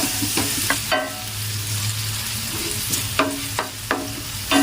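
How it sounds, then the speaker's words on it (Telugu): Onion pieces with salt fry in hot oil, a steady close sizzle broken by several sharp stirring scrapes and clicks of a spoon against the pan. "ఉల్లిపాయ ముక్కలు వేసుకుని ఉల్లిపాయలు వేగడానికి రోజు సరిపడా మొత్తం ఉప్పు వేసేస్తున్నాను ఉల్లిపాయలు బాగా వేగాలి"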